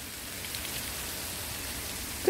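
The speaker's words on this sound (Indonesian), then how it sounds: "Hujan es." Hail falls in a steady broadband patter, a continuous dense hiss of ice pellets striking surfaces outdoors, even and moderately quiet throughout.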